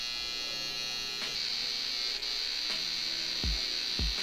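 Electric hair clippers trimming hair at home for a taper cut give a constant close, high buzzing hum, with a few soft knocks and taps as the blade moves across the head.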